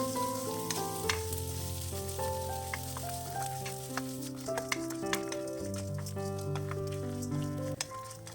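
Sliced onions and lentils fry and sizzle steadily as they are stirred in a pan, with the crackle sitting under prominent melodic background music that plays throughout.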